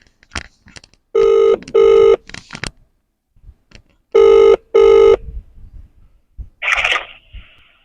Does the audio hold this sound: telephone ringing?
yes